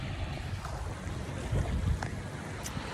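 Wind-buffeted seaside ambience with the low rumble of waves and a boat, steady and fairly loud throughout, with a few brief higher splashes.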